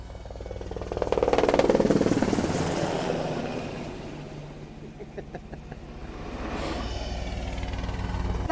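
Black Hawk helicopter rotor roar building close by, a broad thudding swell that peaks early, eases, then rises again, heard alone without speech.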